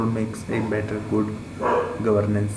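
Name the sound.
dog barking in the background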